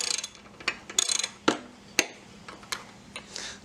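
A ratchet wrench clicks close and sharp while working on a lawn mower during a tune-up, short rapid runs of ticking pawl clicks with pauses and a few louder snaps.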